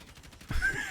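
Kilo assault rifle firing a short burst in Warzone, a sharp onset halfway through followed by a sustained loud rumble, fairly close and alone.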